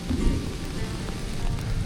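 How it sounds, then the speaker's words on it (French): Heavy rain pours steadily with a deep rolling rumble of loud thunder beneath it during a multi-day cycling trip, a dense continuous wash of sound with no voices. "Ça c'est un gros tonnerre là."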